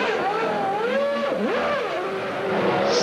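A 1992 Williams Formula 1 race car engine howls at high pitch, its note rising and dipping through gear changes in a continuous loud whine.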